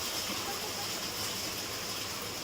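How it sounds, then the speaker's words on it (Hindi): Unseasonal rain pours down over a town market in Madhya Pradesh, a steady, dense hiss of falling water, uniform and unbroken throughout, heard faintly with no voices. "बेमौसम हो रही बारिश।"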